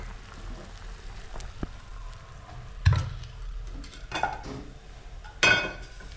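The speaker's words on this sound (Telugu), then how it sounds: "ఇప్పుడు తాలింపు వేసుకుందాం" Spices for a tempering for sambar fry in a pan with a soft, continuous sizzle, broken by stirring scrapes and a few sharp metallic clinks of utensils against the pan.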